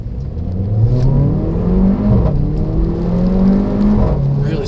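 A 2015 Mercedes-Benz GLA45 AMG accelerates hard on kickdown, its engine note climbing steadily in pitch through several rising sweeps with brief dips at gear changes, loud and close from inside the car.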